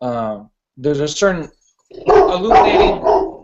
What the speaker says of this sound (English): See that? That's my dog.